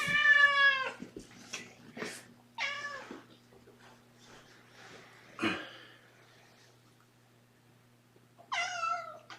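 Kittens meow repeatedly in short, bright, wavering calls spaced a few seconds apart, close by in a quiet indoor room, with soft rustling between the cries and no talking.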